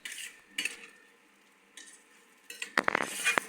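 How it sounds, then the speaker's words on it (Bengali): Onion frying in a pan on a home stove, with bursts of sizzling and stirring scrapes that come in short waves, then busier clatter and sizzle near the end; no talking. "দিয়ে দিলাম পেঁয়াজটা ভাজবো প্রথমে"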